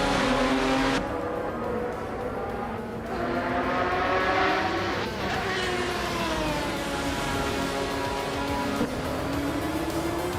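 Ferrari and Pagani race cars lapping a tight-cornered circuit, with continuous loud engine drone whose pitch rises and falls as the cars accelerate through the corners, steady throughout.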